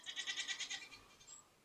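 Farm animals waiting for feed bleat faintly in the distance, a quick, rapidly pulsing trill of about a dozen beats that fades out against a quiet outdoor background.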